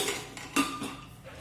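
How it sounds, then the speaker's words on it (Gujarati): A pressure cooker lid is shut over dal seasoned with salt and turmeric: a single sharp metallic clank rings out, close and fairly loud against a quiet kitchen hum. "આપણે કુકરનું ઢાંકણ બંધ કરી દઈશું"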